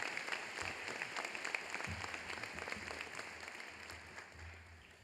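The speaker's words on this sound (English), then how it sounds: "that was pretty anemic applause" Audience applause at the Baylor College of Medicine 2023 commencement ceremony, a thin, moderate patter of many hands in a large hall, steady and somewhat distant, tapering slightly toward the end.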